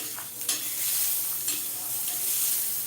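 Coconut roasting in a pan, with a steady dry sizzle and hiss throughout and a few soft scrapes of stirring, close and moderately loud, without speech.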